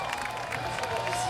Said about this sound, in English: the crowd goes nuts for fast spins